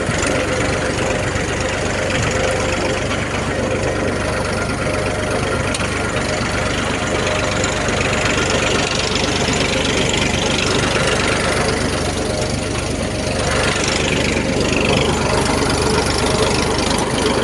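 A tractor engine idles steadily during sowing in a farm field, a continuous low rumble that stays close and loud throughout.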